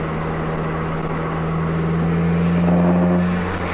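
Turbocharged Audi TT accelerating, heard from inside the car as a steady, loud engine drone with a low hum that climbs slightly in pitch as it pulls, no talking.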